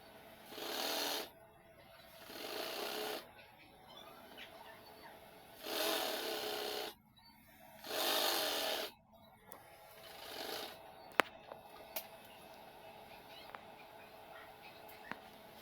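Bursts of a sewing machine stitching a large cover for a wooden bed frame, several runs of a second or two separated by pauses, with faint clicks and handling noises afterward.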